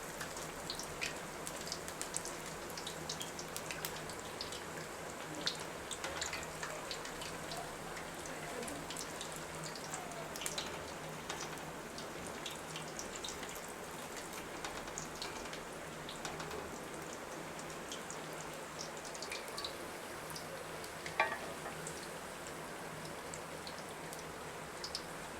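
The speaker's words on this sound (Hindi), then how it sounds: "हमारे अरबी के पत्ते अच्छी तरह फ्राई हो चुके हैं" Arbi (taro) leaves coated in besan fry steadily in a pan of oil, giving a dense, even crackling sizzle with fine popping that runs continuously without pause.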